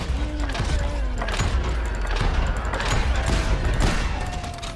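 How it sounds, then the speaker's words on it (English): Rapid gunfire crackles through a Call of Juarez Gunslinger Wild West shootout, dense overlapping shots and ricochets forming a steady fusillade at close range, with no one talking. "Тут там какой-то щегол стреляет по мне"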